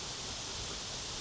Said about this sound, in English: The wind's getting up a bit